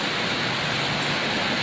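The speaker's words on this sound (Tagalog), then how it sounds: "bumalik na naman yung ulan" Rain falls steadily as a dense, even hiss that fills the short stretch with no breaks and no other sounds.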